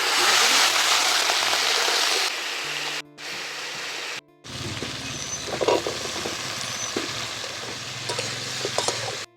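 Mixed vegetables hit hot oil with dried red chilli, panch phoron and bay leaf in a Bengali fish-head ghonto, giving a loud steady sizzle with brief breaks and stirring scrapes near the close.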